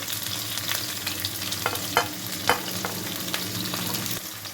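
Thinly sliced onion sizzles in hot oil with mustard seeds and cumin in a pan, a steady, loud frying hiss with a few sharp pops and stirring scrapes throughout, with no voices.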